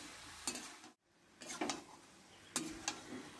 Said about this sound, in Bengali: সয়াবিনটা দেওয়ার পর মশলার সঙ্গে ভালো করে মিশিয়ে নেব